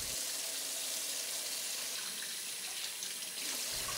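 A tap runs steadily into a sink while hands are washed in hot soapy water, a close, continuous hiss of flowing water with no voices.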